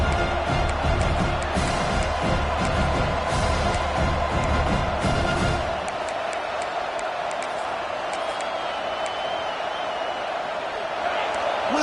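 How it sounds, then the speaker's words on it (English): Stadium crowd at a football game early on, a loud continuous roar of many voices with scattered cheers and claps, heavier in the first half and then thinning to a steadier hubbub. "Listen to the crowd energy here in the early going."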